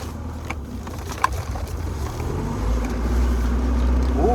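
An old car with no power steering pulls away in first gear after a fuel hose repair, its engine rumble low and steady, rising and growing louder toward the end, with a few small knocks early on.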